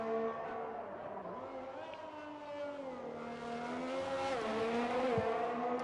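A Williams racing car on a flying lap at Imola in a racing video game, its high engine note holding steady then rising and dipping through gear changes, heard fairly close under quiet commentary.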